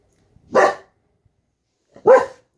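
Two sharp, close dog barks at her own reflection in a mirror, about a second and a half apart, with silence around them.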